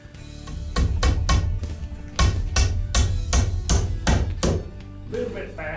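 Nails being hammered into wood while building a bushcraft bed: a run of roughly a dozen sharp, resonant strikes in quick, uneven rhythm, close and fairly loud, pausing briefly midway before resuming.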